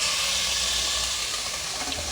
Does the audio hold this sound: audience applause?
no